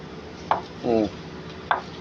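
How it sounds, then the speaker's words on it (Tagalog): A knife slices through ripe bananas, giving two sharp, brief cuts about a second apart, close and distinct, with a short muffled voiced sound between them. "Ayan po, hinihiwa na po yung ating saging."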